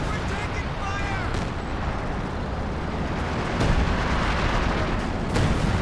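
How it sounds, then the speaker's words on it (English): Howitzer artillery barrage pounding a battlefield in Company of Heroes 2, a steady dense rumble of blasts with a few sharper bursts standing out, loud and continuous with a commentator talking over it. "it's big time howitzer barrage action coming through"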